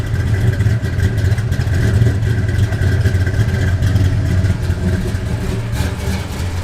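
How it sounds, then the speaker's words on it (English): A 1966 Dodge Coronet 500 engine runs close by with a loud, steady, deep rumble that barely rises or falls across the whole stretch. "Give it a little rev, Gary."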